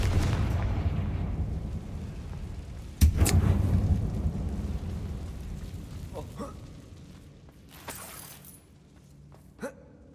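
A Confringo blasting spell in Hogwarts Legacy, heard as a sharp loud blast about three seconds in that fades into a long rumbling decay, with a faint rumble underneath before it and a few smaller cracks and knocks afterward.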